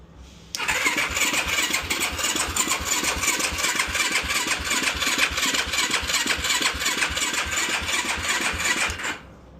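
A Yamaha YFZ450 ATV struggles through a cold start, then its engine catches and runs loudly and continuously for about nine seconds with a rapid, even pulsing before cutting off abruptly.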